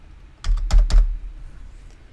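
Close computer keyboard typing comes as a short burst of about four quick key clicks in a quiet room, with no talking.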